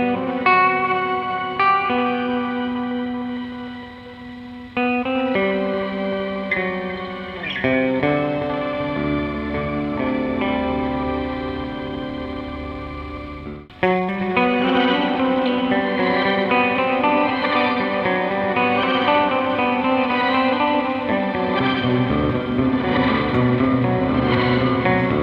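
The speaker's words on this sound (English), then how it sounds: "Start turning controls up on the wizard, and we're gonna hear those effects in the feedback loop of the echo." Dwarfcraft Super Wizard guitar pedal effects fed into the feedback loop of an echo, giving sustained, layered, repeating tones with reverberant trails and a sudden shift to a fuller, louder texture midway, no voice present.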